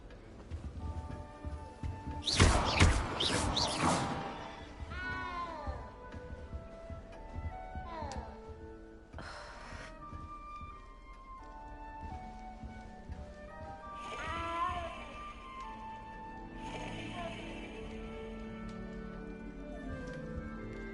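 A cat in the video game Hogwarts Legacy meows several times, with one loud cry early and softer mews scattered through, over ambient game music and effects.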